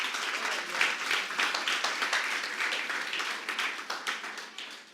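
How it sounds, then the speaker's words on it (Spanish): A church congregation claps together, a dense patter of many hands at moderate volume that gradually thins and tapers off toward the end. "Dale un aplauso al Señor si puede"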